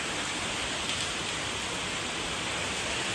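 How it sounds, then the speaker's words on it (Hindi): Heavy rain driven by strong wind pours steadily at night in a dense, even hiss, close and constant, with no voices over it. "हवाओं के साथ चल रही है तेज़ बारिश।"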